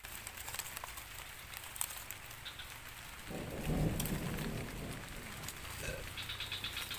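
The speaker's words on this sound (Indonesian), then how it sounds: "hujan teman-teman" Heavy rain pours steadily by a river, with a low rumble of thunder swelling midway through before the downpour continues.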